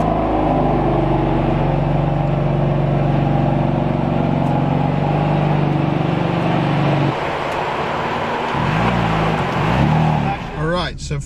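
A BMW M4 engine drones loud and steady at over 3,000 RPM while driving, a sustained low rumble that shifts in tone partway through as the revs change, with a voice breaking in near the end.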